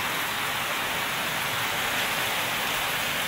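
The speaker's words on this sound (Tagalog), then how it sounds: "Hindi lang masyadong kita pero umuulan po dito sa amin." Steady, fairly heavy rain falls outdoors in a constant dense hiss with no breaks, loud and even throughout the short stretch.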